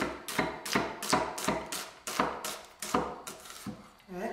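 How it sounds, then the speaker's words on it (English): An onion is sliced on a cutting board with a knife, about a dozen crisp, evenly spaced chops close up in a quick steady rhythm, with a faint voice at the very end. "just cut the onion"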